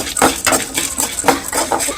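Cumin and cinnamon (spices) being dry-roasted in a pan for curry leaf chutney, stirred with a utensil that scrapes and clinks against the metal in a steady repeating rhythm, close and fairly loud, with no talking.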